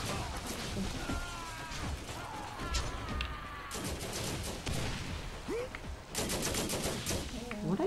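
Gunfire in Borderlands during co-op play, several bursts of rapid shots scattered through the clip, fairly close, with game effects and some voices mixed in.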